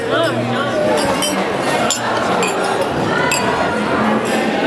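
Glasses clink repeatedly in a busy dining room as guests toast at a valedictory dinner, bright chimes scattered over loud crowd chatter and voices.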